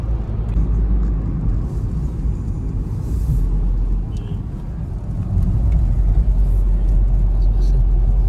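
Steady low rumble of engine and road noise heard from inside a moving car, loud and continuous, swelling slightly toward the end.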